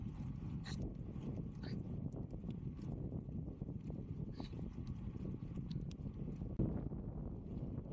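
Headwind buffeting a cyclist on a desert track, a continuous low rumbling rush of air against the microphone with a few faint clicks and one brief thump.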